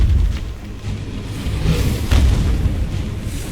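A fire attack roaring over creatures in the video game ARK, a heavy continuous whooshing rumble with a sharper burst partway through, loud and close.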